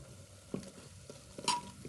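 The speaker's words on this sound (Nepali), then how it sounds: "अनि फेरि मिक्स गर्ने" Spices and ginger garlic paste being stirred for a mutton curry, giving soft scraping strokes with a light sizzle underneath and one brighter clink near the end. It is fairly faint, with no talking.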